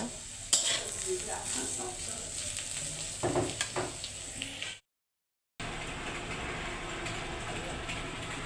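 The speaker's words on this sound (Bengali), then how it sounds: "এই যে আমার করলা ভাজিটা আর একটু হবে, আর একটু হালকা পোড়া পোড়া করব।" Sliced bitter gourd fried in a pan and stirred: a continuous close sizzle with scraping spatula strokes, broken by a brief cut of silence before the frying resumes.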